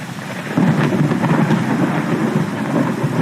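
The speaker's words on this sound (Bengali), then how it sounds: "অন্ধকার আকাশে গটগট করে মেঘ ডাকছে বৃষ্টি কখনো মুষলধারে ঝুমঝুম করে কখনো অল্প কমে টিপটিপ করে পড়ছে" Heavy rain pours steadily at night while deep thunder rumbles continuously underneath, loud and close, a dense unbroken downpour with no voices.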